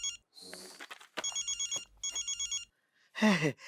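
An electronic phone ring on speakerphone repeats in two short bursts of pulsing tones, with brief chatter before and a voice answering at the end, heard through a speaker.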